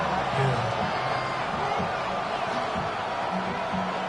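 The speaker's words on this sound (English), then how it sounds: "A big play here as the crowd noise rises." Roar of a large stadium crowd, a dense continuous wash of cheering with voices blended together, steady and loud.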